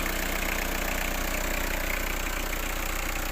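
A Peugeot Partner from 2000 with a 1.9 non-turbo diesel engine idles quietly, a steady, even rumble with a faint rhythmic clatter throughout.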